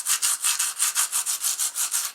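Steady back-and-forth rubbing scrapes on a rusty 1930s gin trap being cleaned with vinegar, about a dozen even strokes in a regular rhythm, close up and alone.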